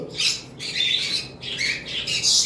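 A female lovebird gives four sharp, shrill squawks in quick succession, loud and close, over a low background hum.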